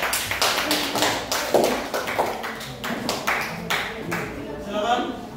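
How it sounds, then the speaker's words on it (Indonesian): A class applauds a student group in a badminton lesson, a brisk, uneven patter of close hand claps from a small group, with voices talking underneath. "Kita berikan tepuk tangan untuk kelompok 2."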